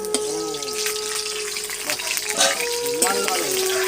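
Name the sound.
potatoes frying in oil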